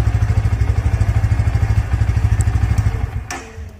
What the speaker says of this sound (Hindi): आगे की ओर चले तो यहाँ से आप इसके इंजन के नोट को सुन सकते हो